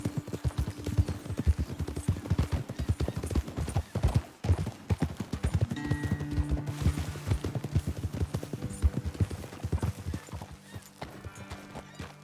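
Steady clip-clop of hooves on hard ground in the video game Red Dead Redemption 2, a brisk continuous rhythm from several horses, with a whinny and snort rising above it.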